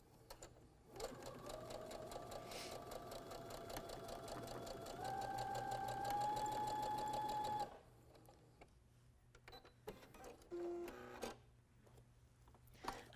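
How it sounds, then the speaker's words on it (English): A sewing machine stitches a quarter-inch seam on a Civil War quilt triangle, running in a fast steady whir for several seconds, rising slightly in pitch, then stopping, followed by quieter handling clatter. "We'll stitch along. I'm going to switch to a 1/4 inch seam real quick here."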